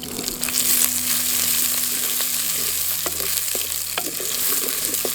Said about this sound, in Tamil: அடுத்து துண்டு துண்டா நறுக்கி வச்சிருக்க சின்ன வெங்காயத்தை சேர்த்துக்கலாம்.